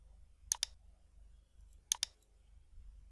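A computer mouse clicks on an OK button in image-editing software: two quick double clicks about a second and a half apart, crisp and close in an otherwise quiet room.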